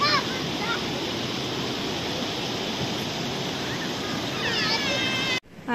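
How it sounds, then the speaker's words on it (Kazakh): Water rushes and flows in a constant loud wash, with children's voices calling out faintly over it before a brief cutoff near the end. "Ана жақтан да су келеді екен, қараңдар"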